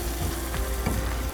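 Salted tomatoes for a tomato and radish pickle fry in a pan, a close, steady sizzle broken by the scrape and clatter of stirring, with no one speaking.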